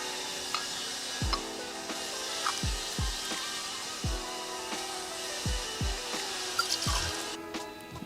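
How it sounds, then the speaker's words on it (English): Vodka, two ounces, poured into a cocktail shaker for a blue curaçao 1980s cocktail, heard as repeated soft drips and splashes in a steady liquid trickle, fairly quiet, with no talking. "adding 2 ounces, that's 60 ml of vodka to our shaker"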